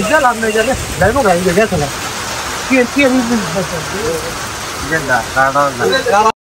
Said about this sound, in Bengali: টিনের চালার উপরে যখন বৃষ্টি পড়তেছিল, রিমঝিম বৃষ্টির আওয়াজটা আমার কানে এখনো বাজতেছে।